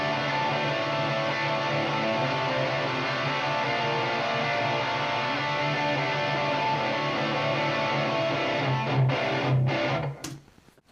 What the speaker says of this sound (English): And then the distorted tone for the chorus.